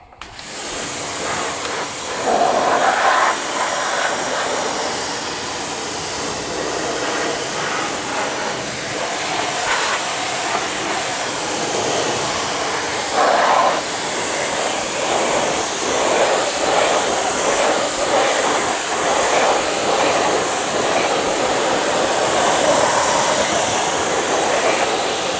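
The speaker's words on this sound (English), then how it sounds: "I always give them a good rinse with the pressure washer first" A pressure washer rinses the wheels of a 2022 BMW G80 M3 xDrive, giving a steady, loud broadband spray hiss that runs continuously with small surges as the jet moves, with no talking.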